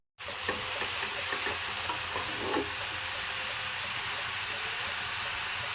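Eggplant, pumpkin and potato with salt being mixed in a frying pan with little oil, a steady close sizzle and hiss running throughout with light scraping stirs, no voices.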